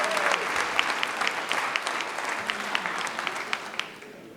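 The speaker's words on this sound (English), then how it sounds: "Give yourself a round of applause." An audience at a celebration of life service for a former NFL player breaks into sustained applause, dense and steady clapping from a sizable crowd that fades slightly at the end.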